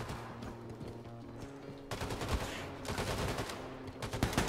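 Bursts of rapid video-game gunfire in Wolfenstein 2, heavier and more continuous in the second half, with sharp repeated shots close by.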